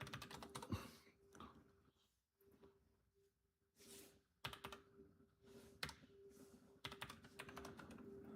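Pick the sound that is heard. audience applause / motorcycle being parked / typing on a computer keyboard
typing on a computer keyboard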